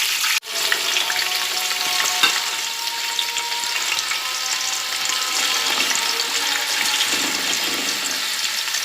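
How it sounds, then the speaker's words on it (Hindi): Steady, dense crackling sizzle of potatoes frying in hot oil over medium heat, continuous and close throughout, with a brief knock near the start and no talking. "अब मैं इसमें बटाटे तलकर लूँगी।"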